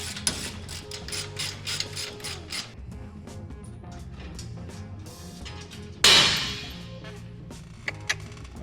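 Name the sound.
ratchet tightening 3/8 bolts on a motor plate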